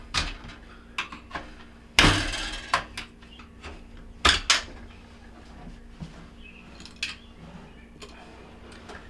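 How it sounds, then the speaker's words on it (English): A screwdriver pries up plastic parts of the tub balance ring in a Whirlpool washer, giving sharp scattered clicks and snaps with a couple of louder cracking pops among quieter tapping and handling noises. "you just take a screwdriver, just push it underneath and pry up."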